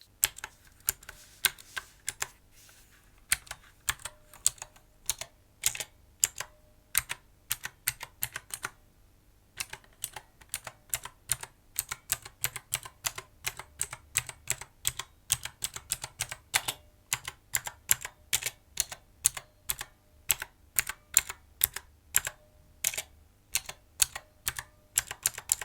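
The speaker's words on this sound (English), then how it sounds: "The next feature is the clicky sound of the blue switches." Rapid, crisp clicking keystrokes from a Hiwings HI300 one-handed mechanical keyboard with clicky blue switches, typed close up in irregular bursts with a brief pause, each press a sharp distinct click and no talking.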